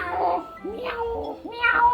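A sick pet cat gives several drawn-out meows, close and clear, with a sliding whining pitch in quick succession over a faint background murmur.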